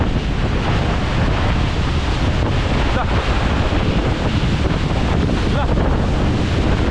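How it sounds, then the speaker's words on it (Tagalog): Strong seaside wind buffets the microphone at a boat building site, a loud continuous rumbling roar with surf beneath, while a person calls out briefly. "Grabe yung hangin talaga, ang lakas."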